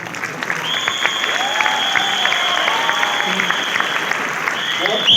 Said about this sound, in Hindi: और खान सर के लिए एक बार जोरदार तालियां